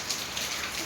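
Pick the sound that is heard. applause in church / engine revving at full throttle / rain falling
rain falling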